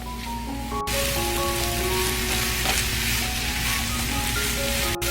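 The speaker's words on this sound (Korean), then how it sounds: "가지를 모두 넣어주시고요. 중불에서 약 2분 정도 볶아주세요." Eggplant stir-frying over medium heat in a pan with garlic and scallion: a steady, loud sizzle and crackle throughout, with a faint background music tone and short scraping stirs.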